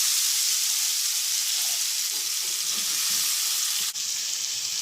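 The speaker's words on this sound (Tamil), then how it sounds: "அடுத்து சீச்சு வச்சுருக்க கேரட்டை சேர்த்துடலாம்" Grated carrot sizzles steadily in a hot pan, a loud, even frying hiss with faint stirring scrapes and no talk.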